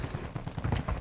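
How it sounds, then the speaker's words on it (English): Rapid bursts of gunfire from a video game, a dense, rattling stream of shots without talk. "Gunfire ahead."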